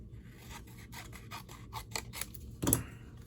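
Small scissors snip paper for a Christmas card in a quick series of crisp, close cuts, about a dozen short rhythmic snips ending with a louder final clip, no talk.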